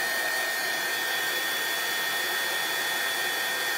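A heat tool blows steadily on embossing powder, a constant loud, even whoosh of hot air that runs without a break and without any talk.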